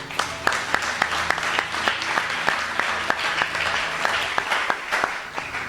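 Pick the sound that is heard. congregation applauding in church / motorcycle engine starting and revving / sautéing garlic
congregation applauding in church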